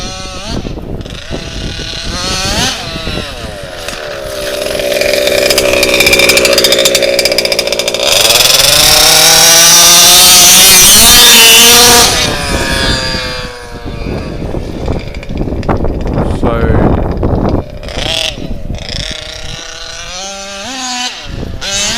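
An HPI Baja RC car with an RCMAX 90 engine screams loudly nearby, revving up to a sustained high-pitched wail, dropping, then blipping the throttle in sharp bursts.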